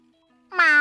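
One short, rising cat meow sounds loud and close after a near-silent start.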